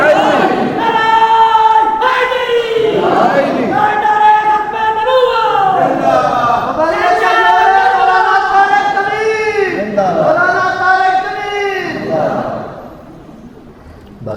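A large gathering at a Muharram religious sermon chants the Takbir slogan in unison, with long, sustained voices rising and falling together in a loud, drawn-out call and response.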